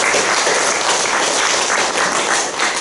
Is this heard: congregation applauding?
yes